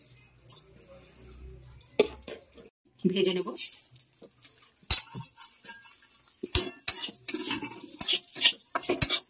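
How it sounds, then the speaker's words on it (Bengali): Gobindobhog rice fries in ghee in a pan while being stirred, with scattered scrapes, clinks and soft sizzling in short bursts, and someone speaking nearby. "আমি গোবিন্দভোগ চালটাকে একটু ঘি দিয়ে ভেজে নেব।"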